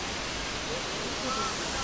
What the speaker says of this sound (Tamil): தண்ணிலாம் பயங்கரமாக ஓடுது.